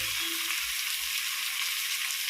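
Radish pieces go into hot oil in a frying pan alongside other vegetables, producing a steady, close, hissing sizzle with a faint low knock at the start.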